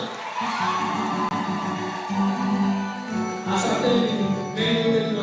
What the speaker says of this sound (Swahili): Hebu tuwapigie makofi ya kutosha.